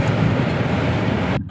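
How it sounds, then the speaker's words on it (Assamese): Steady broadband rumble of a train rolling across the Saraighat bridge over the Brahmaputra, heard from inside a coach as a continuous loud roar that cuts off abruptly near the end. "শৰাইঘাটত আমি ট্ৰেইনেদি পাৰ হৈছোঁ"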